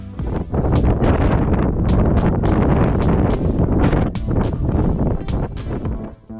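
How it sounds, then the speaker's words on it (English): Strong gusts of wind buffet a mountain biker on a rocky trail at Stanage Plantation, making loud, blustery roaring and rumbling against the microphone that is nearly continuous and dips briefly near the end. "I was getting buffeted around by the wind"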